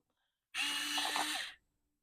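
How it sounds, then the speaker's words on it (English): An electric sharpener runs in a single burst of about a second, a loud, buzzing whir that starts and stops abruptly against silence. "I can't get on with that at all, that electric sharpener"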